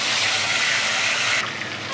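Three pieces of katla fish fry in hot oil with a loud, steady broadband sizzle that drops abruptly to a softer hiss near the end.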